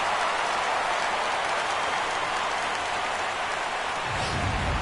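A crowd of over 38,000 stands cheering at a baseball stadium as a Padres batter faces a final strike, a dense, steady roar like heavy rain that holds loud throughout and swells slightly at the end.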